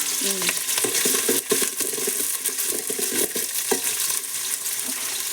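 Onion and green chilli fry in hot oil for a pulao, a loud continuous sizzle with frequent scraping and clinking stir strokes against the pan throughout, close and busy with no voices.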